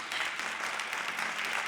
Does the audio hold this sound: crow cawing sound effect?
no